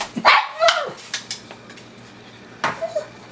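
A hungry, slightly deaf dog lets out a few sharp, loud barks, two close together and another a couple of seconds later, amid clinking dishes and cutlery nearby.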